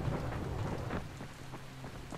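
Rain falls in the video game Dying Light as a steady hiss and patter with low rumbling underneath, fairly close and continuous throughout.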